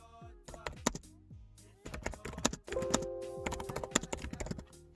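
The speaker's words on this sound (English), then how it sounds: "Now let's do a general typing test." Typing on a Dell G5 SE laptop keyboard: irregular bursts of quick, close clacking keystrokes with short pauses between runs, and a faint tonal hum sitting under the later stretch.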